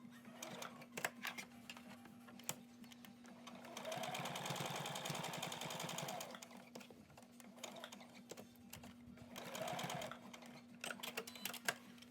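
A sewing machine stitches a cloth face mask in two short bursts of rapid mechanical chatter, separated by quieter handling and clicks, with a steady hum underneath throughout.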